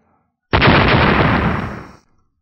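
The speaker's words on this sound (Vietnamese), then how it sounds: "Liên tiếp tiếng nổ kinh thiên động địa vang lên" A single loud, booming blast with a sharp onset, rumbling on for about a second and a half before cutting off into silence.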